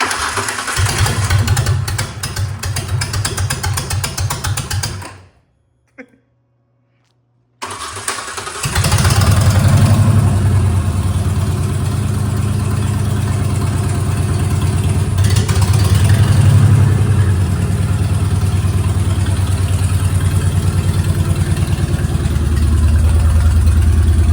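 A Ford Ranger pickup engine runs loud and close, cuts out to near silence for a couple of seconds, then is cranked back up and settles into a steady, rough-edged running note.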